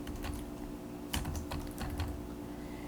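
Typing on a computer keyboard, quiet scattered keystrokes with a few louder taps, close and alone against a faint steady hum.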